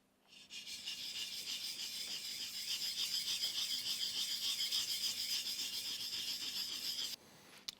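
Flat woodworking chisel being sharpened, a steady rhythmic rasping rub of steel on a stone, close and fairly quiet, running for about six seconds before stopping.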